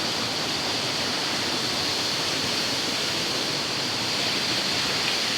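Mountain water rushing from its source high up the slope, a dense, continuous broadband roar at steady loudness with no breaks or voices.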